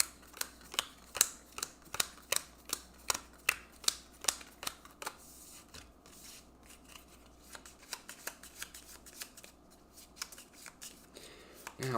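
A deck of cards is shuffled repeatedly during a tabletop card game, a rapid series of crisp riffling snaps and flutters at close range, steady and fairly quiet with no talking.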